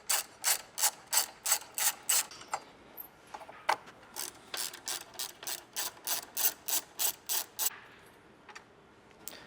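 A ratchet with an extension and a 12mm socket clicks in quick, evenly spaced bursts while backing out a bolt and nut; close and crisp, with a short pause before the clicking resumes and then fades out.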